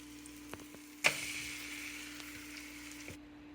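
Banana slices dipped in French toast batter hit a hot pan with a sudden loud sizzle that settles into a steady frying hiss for a few seconds, then cuts off; a faint hum sits underneath.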